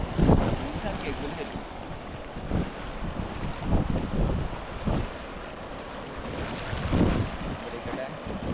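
Cold mountain river water in Ladakh, with jeans soaking and being washed at the bank, makes a steady nearby rush broken by irregular splashes and wind buffeting the microphone.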